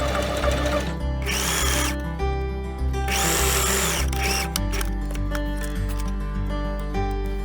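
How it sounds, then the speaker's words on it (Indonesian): A sewing machine stitches gold fabric pieces for a Rapunzel costume, whirring loudly and close in several short runs with brief pauses, then a steadier hum with light clicks. "Dimulai dengan menggabungkan semua bagian emasnya, dijahit pada sisi bagusnya,"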